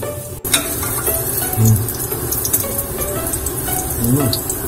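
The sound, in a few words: pork cutlet frying in oil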